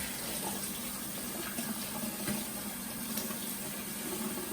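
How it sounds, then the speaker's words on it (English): Water runs steadily from a tap, rinsing and flushing through a brass instrument being cleaned, in a soft continuous splashing stream with no talk. "Flush water through it both ways."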